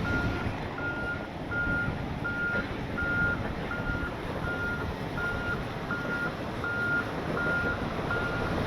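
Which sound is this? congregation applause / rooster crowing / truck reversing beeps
truck reversing beeps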